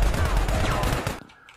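Rapid bursts of video game gunfire crackle loudly in a quick volley, then cut off abruptly into near quiet.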